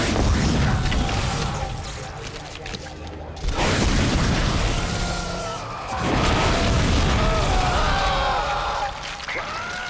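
Line gun fired in the sci-fi survival horror game Dead Space on Xbox 360, heavy booming blasts with crashing impacts and dense game effects, loud and continuous.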